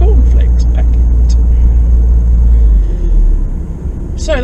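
A Rover 75 out on a warm-up drive to bring its gearbox to operating temperature gives a loud, steady low road and engine rumble from inside the car, easing slightly near the end.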